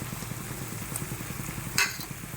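Coconut powder being stirred into a paneer mixture in a pan, a steady rhythmic scraping under a soft sizzle, with one brief sharp clink of utensil on metal near the end.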